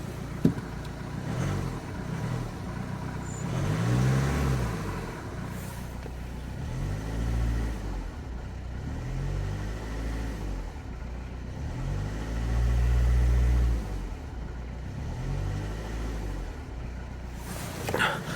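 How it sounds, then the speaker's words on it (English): A car engine idles and revs gently from inside the cabin, swelling in several slow low rumbles over about eighteen seconds with a steady hum underneath, and no one speaks. "Let's go inside the car and try to rev it a little bit"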